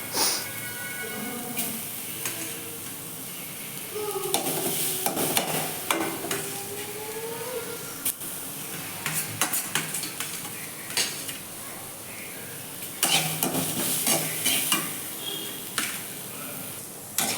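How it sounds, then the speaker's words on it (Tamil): Beetroot frying in ghee as a spoon stirs and scrapes the pan, a steady close sizzle broken by clinks and scraping strokes that come in bursts, with louder clattering stretches near the middle and end. "இதில் பீட்ரூட் அப்படியே போட்டு இந்த நெய்யிலே போட்டுடலாம்."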